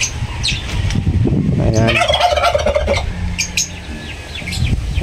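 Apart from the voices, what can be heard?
hybrid turkeys gobbling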